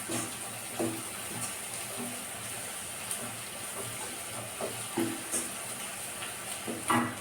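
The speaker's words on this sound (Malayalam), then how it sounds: "ഇപ്പം ഇഞ്ചിയും വെളുത്തുള്ളിയും സവാളയും കൂടെ നല്ലൊന്ന് വഴണ്ടി വരട്ടെ" Ginger, garlic and onion sauté in a hot pan with a steady close sizzle, broken by occasional soft scrapes and clinks of stirring, with no voices.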